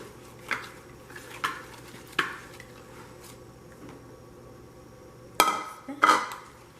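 Pumpkin cheesecake muffin batter being stirred in a bowl: scattered, clanking scrapes of a utensil against the bowl with soft squishy mixing between, louder knocks near the end.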